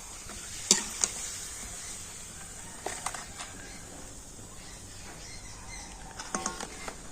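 Papad flour crisps frying in hot oil, a soft continuous sizzle and bubbling patter with a few sharper crackles and pops scattered through, close and moderately quiet.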